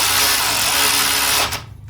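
A power tool runs in one continuous, loud whir while tightening the wheel nuts on a Harley-Davidson Street 500 motorcycle, then cuts off abruptly near the end.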